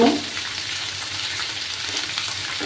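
Small tangra fish, all added to the pan together, fry in a steady, close hiss and sizzle that holds evenly throughout, with no one talking.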